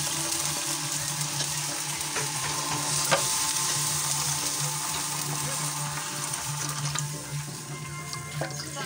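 Water poured into a hot frying pan hisses and sizzles steadily at close range, a constant bubbling crackle with occasional sharp pops and no talking.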